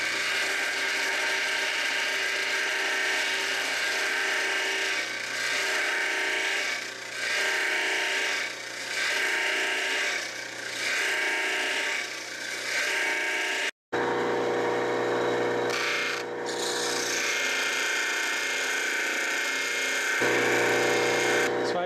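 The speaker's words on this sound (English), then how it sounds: "it vibrates the marble back and forth, hammering it against this block, and it grinds it much faster out here" A Brazilian rainbow agate marble rattles and grinds against a block in a steady, buzzing mechanical vibration, loud and continuous, with a brief cutout partway through before the grinding resumes.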